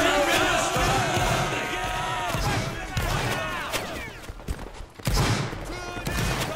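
A volley of gunfire in a video game battle, dense overlapping shots and crowd noise, loud and continuous with a brief dip before the firing resumes, voices mixed in.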